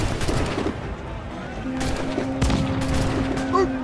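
Rapid bursts of gunfire in a pirate video game, a loud crackling fusillade of shots mixed with game effects, with brief talk-like sounds among the shots.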